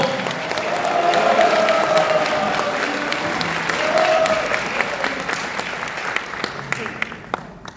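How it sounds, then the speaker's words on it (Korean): An audience at a seminar held at the Air Force Hotel claps to welcome Seoul mayor Oh Se-hoon, a sustained wash of applause that swells, eases and thins into scattered claps, with voices heard over it. "여러분, 오세훈 서울특별시장님을 힘찬 박수로 맞이해 주십시오."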